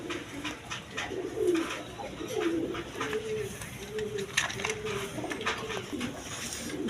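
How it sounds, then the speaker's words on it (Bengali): A big-sized pair of deshi golla pigeons coos close by, a series of soft, throaty rolls repeating every second or so over a hissy, busy background. "এখানে এক পেয়ার গোল্লা কবুতর আছে দেশি গোল্লা বিগ সাইজের"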